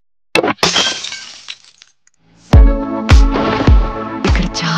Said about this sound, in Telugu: ముందు నీ ఎదురుగున్న బాటిల్ పగలగొట్టు.